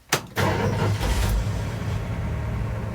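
A 1966 Ford F100 engine cranks for a split second, then catches and settles into a steady, rumbling idle up close.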